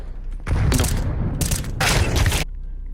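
Bursts of rifle fire from the video game Counter-Strike 2 on the Nuke map: two loud, dense volleys of rapid gunshots, the second longer, close and heavy with low booms, and no talk over them.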